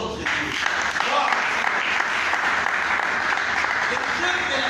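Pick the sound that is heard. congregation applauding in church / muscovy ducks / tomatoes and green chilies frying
congregation applauding in church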